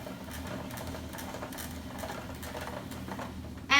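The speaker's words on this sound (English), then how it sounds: "So I'm just turning it clockwise and having it turn into spiral pasta." A hand-cranked spiralizer turning zucchini into spiral noodles makes a steady soft grinding, crunching whir, close and continuous, ending in a sudden louder clatter.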